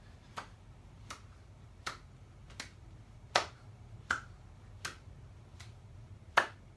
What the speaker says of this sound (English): Sometimes what I do is I might clap my hands off like this.